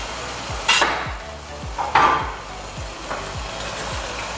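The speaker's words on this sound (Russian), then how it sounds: "И перемешиваем все время." Shrimp and garlic in a creamy sauce are stirred in a frying pan, with a few scraping utensil strokes over a steady low bubbling simmer, close and moderate in level.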